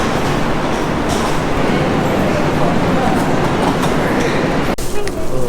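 Train standing at a platform before departing for the airport, a loud steady rumble and hiss of the carriage filling the whole stretch, ending with a brief clunk near the end.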